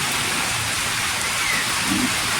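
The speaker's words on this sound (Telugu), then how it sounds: "వర్షం అయితే ఫుల్ వర్షం పడుతుంది ఇక్కడ" Heavy rain pours down in Gundala village as an even, dense hiss that fills the whole stretch, loud and close, with no voices.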